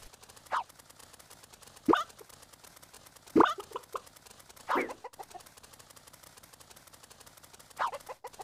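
Chickens cluck in short separated bursts over a steady game soundtrack in a competitive three-player chicken-catching video game, about five clucks spread across the stretch.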